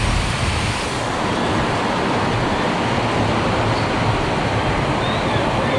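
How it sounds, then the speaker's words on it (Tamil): Heavy rain pours down on an aviary at night as a loud, dense, steady hiss with no breaks, close and enveloping. "செம்ம மழை பெய்யுது."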